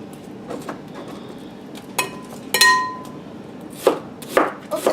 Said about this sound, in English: I'm just doing a rough chop, cutting up our onion here